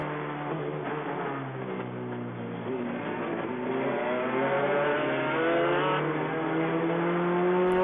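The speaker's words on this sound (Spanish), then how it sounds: "Pero ahí José Luis Alvarado logra pasar a Luis León" Racing cars in a GT touring car event roar past on a wet, drying circuit, with a loud sustained engine drone and shifting pitch as the cars pass.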